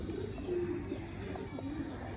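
Pigeons coo in a steady, low, rolling series, fairly close, with no talk over the calls.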